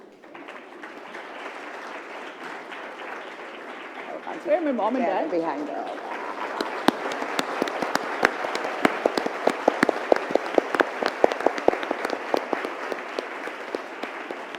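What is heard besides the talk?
audience applause for someone's parents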